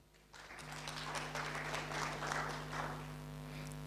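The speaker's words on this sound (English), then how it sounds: "A round of applause for that" Applause from an audience at the launch of an organisation in Kenya swells up after a brief quiet start and continues steadily, with a constant low electrical hum underneath.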